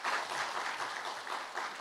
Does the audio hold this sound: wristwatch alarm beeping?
no